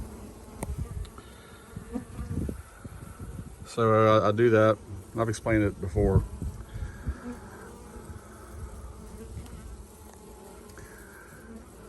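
Bees buzz close by in a steady drone at a pasture apiary, with a louder burst as one passes near, while someone speaks over the humming.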